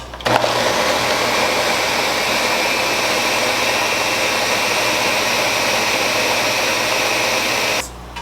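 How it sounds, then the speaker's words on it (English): Kitchen blender whirring through green chilaquiles sauce with cilantro, a loud, steady motor roar that starts abruptly, holds for about seven seconds and cuts off sharply, close by with no talking. "Let's blend it."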